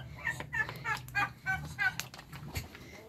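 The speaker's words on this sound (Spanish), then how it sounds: "Y por allá está el señor pavo." A farm turkey gobbles in several quick, rattling bursts, fairly close and moderately loud, with a few sharper calls at the end.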